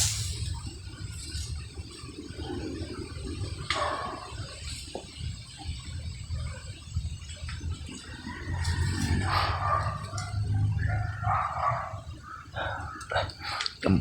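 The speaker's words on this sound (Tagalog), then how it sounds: "Nadala pa sila mga aso." Several dogs bark and growl in a rural outdoor area after an armed clash with bandits, a messy mix of near and far barks, growls and whimpers spread across the whole stretch over steady background noise.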